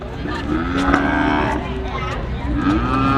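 Cattle at a Thai livestock market lowing loudly and repeatedly, long drawn-out moos overlapping close by amid steady crowd and market noise.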